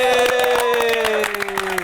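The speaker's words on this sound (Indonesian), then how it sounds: "Tepuk tangan dulu" An audience at a podcast event for LUMIX Indonesia claps together, a dense, steady patter with voices and a sustained tone running underneath throughout.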